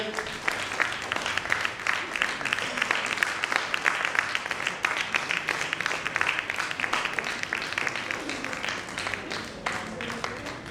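Loud, sustained applause from a large crowd at an awards ceremony in Didwana, India, steady and dense for the whole stretch, with some voices mixed in.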